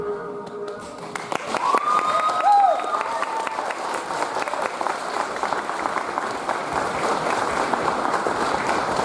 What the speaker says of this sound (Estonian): teeme suure aplausi tublidele tantsupiigadele.